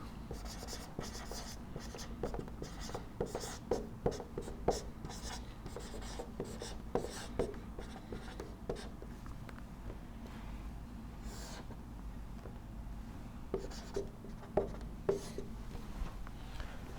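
Chalk or marker tapping and scratching steadily on a board as equations are written during a lecture on inverted pendulum dynamics, faint and continuous under a low room hum.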